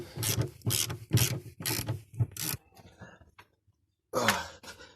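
Socket ratchet loosening a tough 10 mm vent bolt inside a BMW E36 convertible: a series of close, rhythmic clicking ratchet strokes, a brief pause, then a few more pulls.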